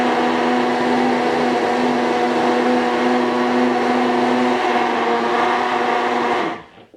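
Blender blitzing tomato soup, a steady loud motor whir with a constant hum that runs unbroken for several seconds, then winds down and stops near the end.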